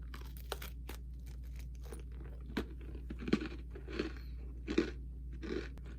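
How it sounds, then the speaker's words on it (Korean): Sharp crunches and bites of a crunchy peanut butter cookie at a close distance, spaced irregularly, with soft chewing between them and a low steady hum underneath. "비건이에서 피넛 버터 쿠키 두 개 샀는데 이것도 하나 먹으려고요."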